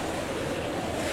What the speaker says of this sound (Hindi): ये तो बड़ा ही जोरदार तूफान है। अगर हम इन लहरों में डूब गए तो क्या होगा?